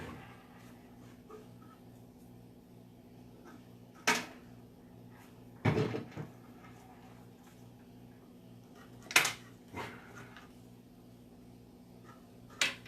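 Wooden drawers are pulled out, a few sharp knocks and sliding thumps spaced several seconds apart against a quiet room, close by with no talk.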